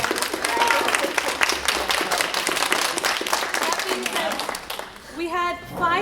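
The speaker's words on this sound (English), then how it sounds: "So actually, Miss Poor, we have to give you a round of applause." Audience applause at a third-grade school string recital, a dense wash of many hands clapping that holds steady for several seconds and then thins out, with voices starting to speak near the end.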